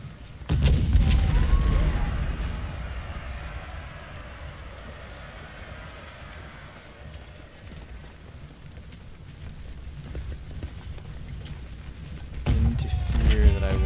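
Rumbling cannon fire from the Civil War strategy game Ultimate General at Gettysburg, with heavy booms near the start and end and a low continuous battle rumble between them.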